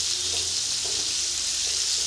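Bottle gourd and shrimp frying in a pan over high heat, giving a loud, dense, continuous sizzle with faint stirring scrapes underneath and no voices.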